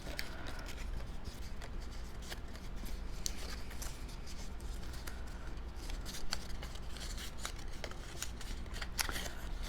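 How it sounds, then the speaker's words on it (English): Paper pieces for a bowler hat being folded along their score lines, producing a steady run of soft crinkles, creases and rustling close by, with brief sharper crackles scattered throughout and no talking. "let's start by just folding on all of our score lines"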